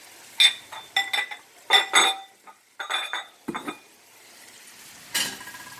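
Carrots and celery stirred in a pan with onions and garlic for a vegetable soup, heard as bursts of spoon and pan clinks and scraping with faint sizzle, close and intermittent, with no talk.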